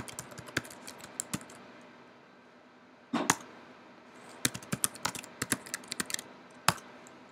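Someone types a terminal command on a computer keyboard in crisp, close keystrokes. Two quick bursts are separated by a pause, and a faster run of clicks follows.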